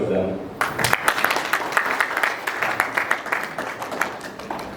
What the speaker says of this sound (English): So could we please have a very warm round of applause for the both of them.